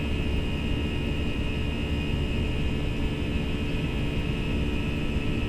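An Airbus A319 jet accelerates down the runway on its takeoff roll in a flight simulator game, giving a loud, steady, broadband engine roar with a constant high whine throughout and no audible talking.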